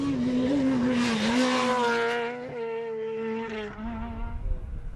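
A BMW rally car on an asphalt stage, driven hard and sideways, engine revving loud and close with harmonic whine rising and shifting, a tyre squeal running through before the car pulls away.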